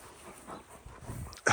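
A dog gives a soft, high whimper close by, ending in a sharper yip.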